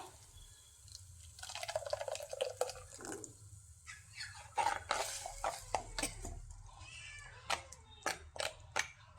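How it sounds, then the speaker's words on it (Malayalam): Ground spice paste is poured into a simmering taro stem curry, giving wet plops, sloshes and drips close by, with irregular clicks and no voices. "ഇതിലേക്ക് നമുക്ക് അരച്ച് വെച്ചിരിക്കുന്ന അരപ്പ് ഒഴിച്ചു കൊടുക്കാം."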